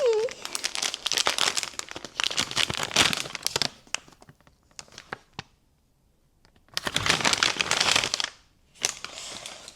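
A Housewife Barbie advent calendar package is torn open by hand, giving loud close crinkling and crumpling of wrapping in bursts, then a quiet pause, then another long stretch of rustling and a final short crinkle.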